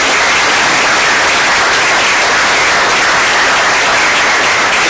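Sustained, loud applause from an audience at a school board meeting honoring honors band students, a dense, even wash of clapping that fills the whole stretch with no talk.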